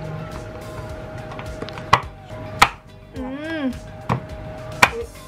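A knife chops chocolate sharply on a cutting board, a handful of distinct thuds spaced irregularly, close by, with low background noise and a brief tonal squeak between strokes.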